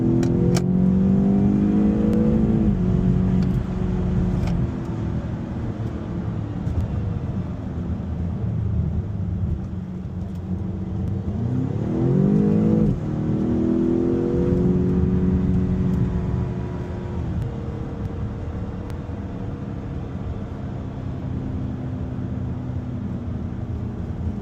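A BMW X6M with a Valvetronic Designs valved sport exhaust, valves closed, drones steadily under acceleration, its muffled engine note rising through the gears with brief dips at each shift.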